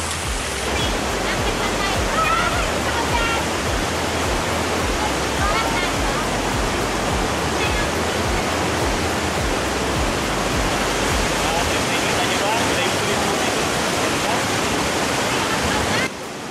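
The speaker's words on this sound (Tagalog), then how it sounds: "Pero natatanaw na natin yung ilog at yung falls." A river and waterfall at Mt Balingkilat rush in a loud, steady broadband roar that holds for about sixteen seconds, close by, with voices faintly mixed under the water noise.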